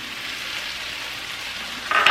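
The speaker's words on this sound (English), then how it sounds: "our cactus has been cooking for about 5 minutes now." Nopales cactus pieces cooking in a pan, a steady soft hiss and sizzle throughout with a brief louder crackle at the end, no talk.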